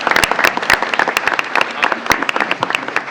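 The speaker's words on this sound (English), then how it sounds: "If not, okay, round of applause." Applause at a Lacey Township school board meeting honoring a student, a short burst of sharp, close handclaps from a modest crowd, uneven and percussive with no talking over it.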